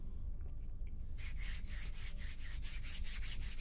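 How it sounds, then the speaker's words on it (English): Rough leather being sanded in a quiet ASMR setting: after a second of near silence, steady rhythmic scratchy strokes repeat close up, with no talking. "Maybe I should, sand it a little."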